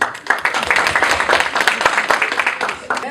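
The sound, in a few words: audience applause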